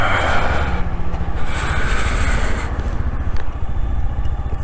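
A Brixton 125 motorcycle pulling away from a stop sign, a close, loud single-cylinder putter that builds steadily, with some wind rush over the rider's microphone.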